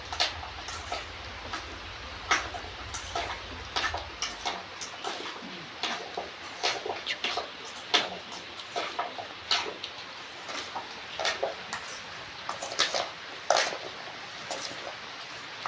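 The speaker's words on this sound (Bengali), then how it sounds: "বন্ধুরা, এবার আমি ভালো করে ফাটিয়ে নেবো।" Guava chutney with mustard oil is mashed and beaten in a bowl, making a run of irregular wet tapping and clicking strikes close by, with a low hum at the start that drops away.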